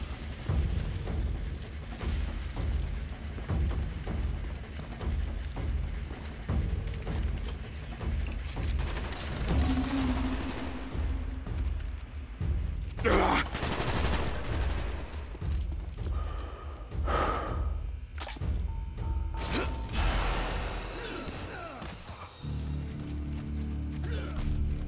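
Gunfire during a Vietnam POW mission in a video game: scattered shots, booms and crashes over a rumbling battlefield backdrop, with one loud burst standing out near the middle and a few later impacts.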